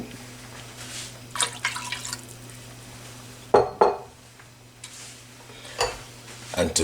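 Whole milk poured into a pot alongside evaporated milk for ice block custard, with liquid trickling and dripping between light metallic clinks and knocks of the pot and utensils, fairly quiet and close.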